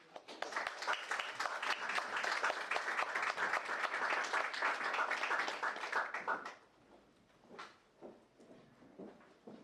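An audience applauds to welcome an ambassador at a talk on the European Union as a defense actor. Dense, sustained clapping lasts about six seconds, then stops abruptly, leaving a few scattered claps.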